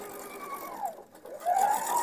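A coverstitch sewing machine stitches a decorative seam with elastic thread, a steady mechanical whir that dips briefly in the middle and then picks up again, close by with no talking.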